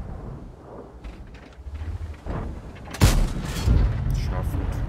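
Tank cannon fire in a tank battle video game: one heavy, booming shot lands sharply about midway, followed by rumbling, while a voice commentates throughout.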